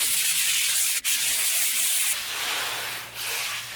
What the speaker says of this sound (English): So once again, 120 grit sandpaper on this coat here.